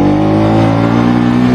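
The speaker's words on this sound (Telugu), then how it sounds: "చాలా స్మూత్ ఉంది ఇంజిన్" A 2023 Bajaj Pulsar NS200 motorcycle engine runs close by, loud and steady, its even droning hum holding a constant level with no speech.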